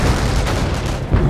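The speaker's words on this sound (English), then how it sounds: "Call in the explosions, the shooty shoots." Dense, continuous explosions and artillery fire boom through a Company of Heroes Eastern Front battle, a loud, low rumbling barrage with overlapping blasts.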